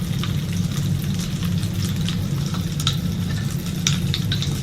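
Pop Rocks candy fizzing and crackling in a glass of Sprite, a dense stream of tiny pops and crackles over a low rumbling fizz, close and continuous, with no talk.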